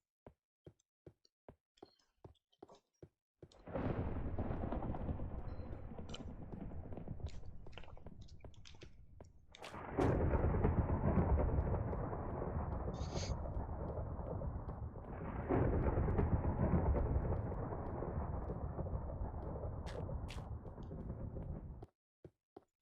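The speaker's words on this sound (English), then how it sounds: "Maybe it's just the thunderstorm has me on edge." Rumbling thunder from a video game thunderstorm rolls in long, loud swells, with sharp knocking footsteps clicking before and around the booms.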